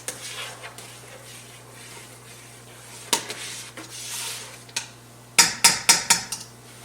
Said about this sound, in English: I'm going to keep stirring this until the boil comes down a little bit.